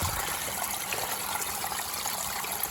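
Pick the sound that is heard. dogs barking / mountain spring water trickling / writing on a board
mountain spring water trickling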